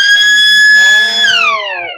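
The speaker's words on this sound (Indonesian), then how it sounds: "bisa dicoba Pak sirinenya Pak" A loud electronic siren at a neighborhood security post sounds in a test, holding a steady high wailing tone before sliding downward as it winds down, with faint murmuring voices in the background.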